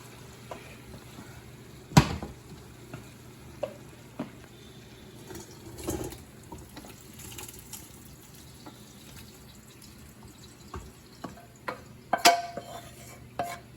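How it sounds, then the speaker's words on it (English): Excess fat is drained from a pan of cooked ground beef, with faint liquid trickling, scattered clinks and scrapes of the pan, and a few sharper knocks against a quiet background. "we're gonna go ahead and drain our ground beef now to get the excess fat out of there."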